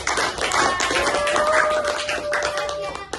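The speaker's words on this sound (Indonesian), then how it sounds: "Tepuk tangan." Grade 6 pupils clapping together in a classroom during a science lesson, a short burst of claps mixed with children's voices.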